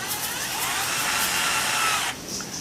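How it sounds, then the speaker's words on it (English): An L wrench being turned to twist wire for a fishing lure harness, a continuous close whirring, rubbing sound that stops abruptly toward the end, followed by a brief quieter tail. "the other side hook it to the L wrench and turn"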